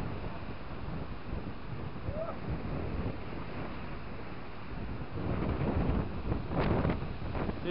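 Wind buffeting a microphone outdoors, a continuous rough roar that swells louder for a few seconds toward the end.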